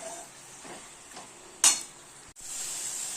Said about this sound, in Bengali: লবণ দিয়ে এটাকে ভালো করে আমি এখন কষাবো